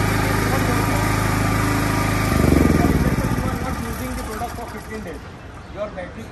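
An ultra compact petrol generator set runs steadily, a loud continuous engine drone that surges briefly and then settles into a rougher, lower hum.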